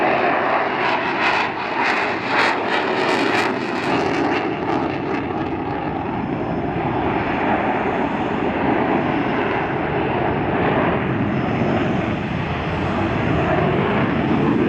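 Fighter jets dogfighting at an airshow in Sweden, with flares deployed, a loud, continuous jet engine roar that stays steady for the whole stretch.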